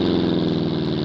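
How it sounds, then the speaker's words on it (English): Air-cooled 1.3 litre car engine in BeamNG.drive idling steadily and close, a low, even, continuous rumble with a fine rhythmic pulse and no talk over it. "Let's go ahead and start this up."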